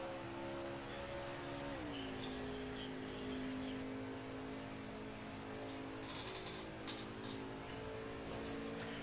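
Race car pulling out of the pit lane at Michigan in a playoff race, its engine a steady droning roar with a pitch drop and shift before holding a sustained tone as it builds speed, heard at a distance.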